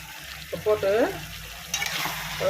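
Chicken curry seasoned with fennel-cumin powder is stirred in a frying pan, a near, scraping sizzle with a few stirring strokes and clinks of the spoon, fairly loud with no talking.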